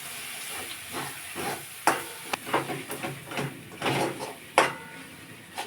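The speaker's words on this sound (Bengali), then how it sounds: "এখন এটার মধ্যে আমি একটু গোলমরিচের গুঁড়ো দিয়ে দেব। মশলাটা কষিয়ে নেব।" Spice masala with ground black pepper being fried and stirred in a pan for chicken do pyaza, with a steady sizzling hiss broken by several sharp scraping strokes of a spoon across the pan.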